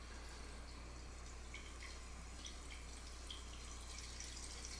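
Quiet, steady fizzing hiss with faint scattered crackles and pops from a DIY CO2 kit's chemical reaction for aquatic plants, continuous and close, with a low hum underneath.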